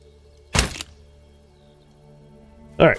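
Two crossbow bolts thud into a target while bear hunting in Medieval Dynasty, a dull impact near the start and a second sharper thunk at the end, separated by quiet ambience.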